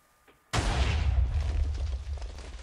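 A TNT cannon in Minecraft fires with one sudden, loud explosive boom that rumbles and decays over a couple of seconds after a quiet moment.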